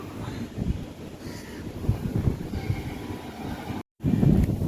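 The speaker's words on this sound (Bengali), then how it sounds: "সো এত হাওয়া দিচ্ছে কি আর বলবো, মানে প্রচণ্ড হাওয়া দিচ্ছে।" Strong wind sweeps across an open rooftop, buffeting the microphone with a continuous low, gusty rumble that cuts out for a moment near the end before returning just as loud.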